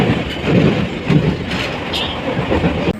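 A passenger train rolling along its rails, heard from inside a carriage: a loud, steady rumble with rhythmic clattering bursts throughout, and no talking.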